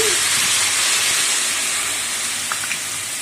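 Butter melting in a hot kadai while making homemade ghee gives a loud, even hiss of steam and sizzle that fades slightly over a few seconds, with a couple of faint clinks near the end.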